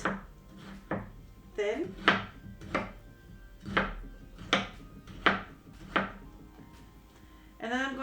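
A knife slicing tomatoes lengthwise on a board for pico de gallo, about a dozen crisp, evenly spaced chops up close, with a brief spoken word and a short clatter near the end.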